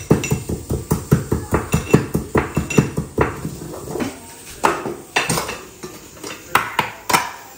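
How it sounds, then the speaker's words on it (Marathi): Fennel and whole coriander seeds being coarsely pounded, a rapid run of sharp, regular thuds with metallic clinks, close and loud, slowing into scattered strikes toward the end. "बडीशोप थोडे धने घेतलेले, अख्खे धने, आणि हे थोडेसे ठेचून घ्यायचे आपल्याला"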